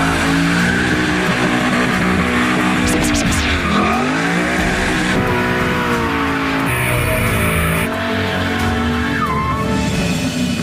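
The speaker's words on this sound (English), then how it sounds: "you dump the clutch and you just do a huge burnout" A Ford Mustang Boss 302 doing a burnout: loud, close engine revving with rising and falling pitch under a continuous harsh tire squeal and skid that carries through the whole stretch.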